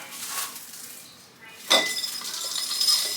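Glass quart jars clink and knock together while being filled with freeze-dried elderberries, a few soft taps followed by a sharper clink and lighter rattling, close by with no talk.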